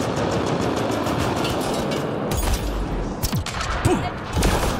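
A large turret in Mass Effect Andromeda fires heavy, rumbling bursts that sustain over a steady roar. Sharper booms land near the end.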